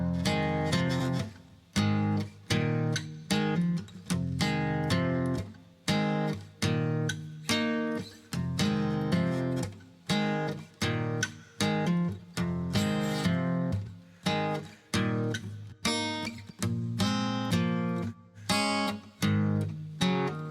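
A soloed acoustic guitar plays a steady strummed and picked chord pattern, with reverb sent to the right, panned left. Bright, rhythmic attacks repeat evenly throughout, close and clear, with no voices.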